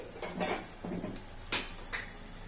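Tamarind juice is poured into a pot of bottle gourd pulusu curry in two short splashing pours, followed by a couple of light metallic clinks against the vessel.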